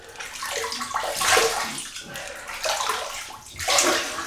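Water sloshing and splashing as a shaving mug soaks, in a few swelling surges, close and fairly loud, with no talk.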